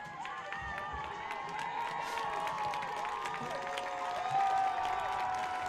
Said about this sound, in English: gets a fantastic round of applause by the Pioneer faithful